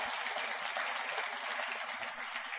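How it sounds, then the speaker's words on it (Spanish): Steady applause from a church audience fills the space, a dense wash of clapping hands that holds even throughout, moderately distant. "Si le vas a dar un aplauso, dáselo al Señor"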